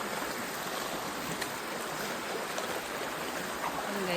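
Steady broadband rush of a river flowing, continuous and fairly close, like a stream running over rocks, with no voices.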